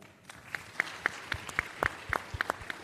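Jamaican diaspora conference audience clapping for themselves, a sparse scatter of individual claps rather than a full ovation, fairly distant and modest in volume.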